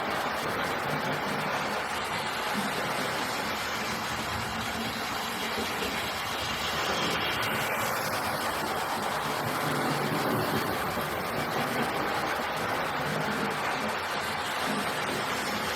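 A model railway train runs on a temporary layout modelled on Cattistock in Dorset, giving a continuous, even whirring rumble with a faint hiss that stays at a steady, moderate level for the whole stretch.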